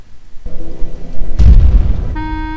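A deep, booming explosion erupts midway, loud and rumbling with a sustained low roar, followed by a bright tonal chime layered over the fading blast as a game video outro ends.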